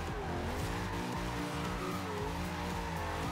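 Car engine revving hard in second gear in the Forza Horizon 2 racing game, a drift car with tires squealing; loud, continuous, close-up engine harmonics rising and falling throughout.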